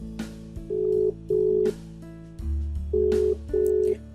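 An outgoing WhatsApp call rings on a phone: a clear, repeating ringback tone in short, evenly spaced pulses, loud and close, with no voices.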